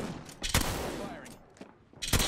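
Gunfire in Apex Legends comes as several sharp, loud bursts of shots spaced across a couple of seconds, with quieter game noise between the volleys.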